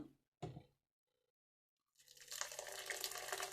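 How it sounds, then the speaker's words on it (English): Hot water poured into a pot of perpetual stew, a brief splash followed after a pause by a steady, moderately loud pour that continues to the end. "Hot water."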